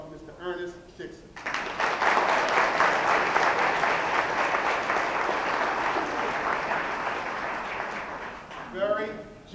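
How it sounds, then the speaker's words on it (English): A room full of people at an awards ceremony for youth entrepreneurs bursts into sustained applause that holds steady for several seconds, with a speaker's voice briefly at the start and end. "Please give a round of applause for Mr. Ernest Dixon."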